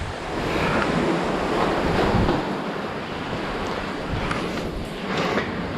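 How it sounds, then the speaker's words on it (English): Ocean waves crash and wash against rocks near cave and sea arches, a loud continuous roar of surf with surges of spray, mixed with wind buffeting the microphone. "Sometimes those waves will actually cover the rocks over there."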